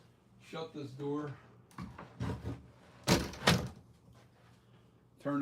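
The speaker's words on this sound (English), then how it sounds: "I got to shut this door" A door pushed shut indoors, landing as two heavy, close thuds in quick succession, with a brief voiced sound and shuffling handling noise just before.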